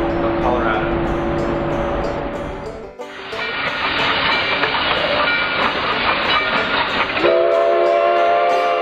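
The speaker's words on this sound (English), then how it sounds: "It's the train that goes from Durango up to Silverton" The Durango to Silverton train rumbles past in the Colorado mountains, its horn sounding in long loud blasts over the heavy clatter and roar of the cars.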